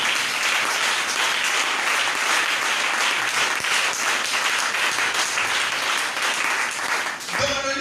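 A church congregation at a divine-healing seminar bursts into sustained applause and cheering, a dense, loud wash of clapping and voices that continues throughout before fading at the end.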